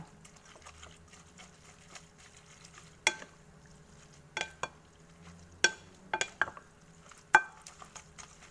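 Thai rice noodle salad being tossed with dipping sauce in a bowl, a quiet wet stirring bed punctuated by several sharp clinks of utensil against the dish.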